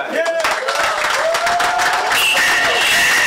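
Applause for party leader Austin Jack Warner at a political meeting, a roomful of clapping that swells under lingering voices and a faint tone near the end.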